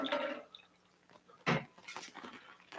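A coffee WDT distribution tool rinsed under running water, heard as a brief splash and trickle at the start and a sharper burst midway, with quieter drips and clinks between.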